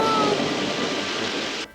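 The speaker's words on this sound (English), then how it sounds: "The storm is getting worse and worse." Heavy rain hisses steadily with a low rumble of thunder beneath it, a dense wash of storm noise that cuts off abruptly at the end.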